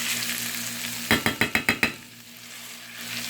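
Cream cheese dropped into a hot skillet for an alfredo sauce, with a series of about six quick sharp scraping or tapping hits against the pan over a low sizzle and a steady background hum.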